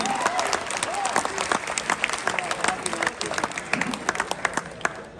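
Listeners at a Dubai mushaira poetry gathering applaud themselves, a full wash of clapping with sharp individual claps cutting through and a few voices and murmurs mixed in.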